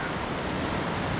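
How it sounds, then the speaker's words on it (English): Floodwater of the Molonglo River rushing past, a loud, dense, unbroken roar of water like surf, with wind buffeting the microphone throughout. "There's not any crossing bridge in here, and now it's flooding."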